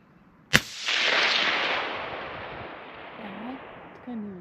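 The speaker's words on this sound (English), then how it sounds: "I'm gonna try and shoot the one that you missed" A single sharp precision rifle shot fired outdoors at a target range, a loud crack followed by a long rolling echo that fades over several seconds, with brief faint voices near the end.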